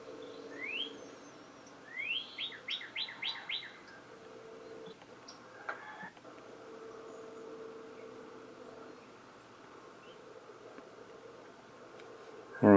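Wild birds chirp outdoors as a bird identification app records, a faint burst of rapid descending tweets early on, then scattered distant calls over a steady background hiss.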